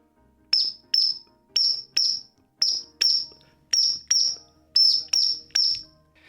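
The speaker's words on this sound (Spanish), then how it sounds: "estos silbatos que tienen acá, un colibrí cruscans, que es un colibrí chillón" A clay hummingbird whistle blows a run of short, sharp, shrill chirps, about eleven quick bursts in an uneven rhythm, bright and close like a small bird calling.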